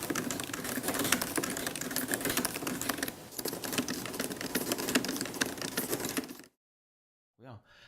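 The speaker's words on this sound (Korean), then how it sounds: "그동안 타이핑을 할 때 큰 소리가 났었던 1세대와 2세대에 반해서 소리가 많이 줄어든" Fast, continuous typing on a 2018 MacBook Pro's third-generation butterfly keyboard produces a dense stream of soft key clicks for several seconds, then stops abruptly into near silence.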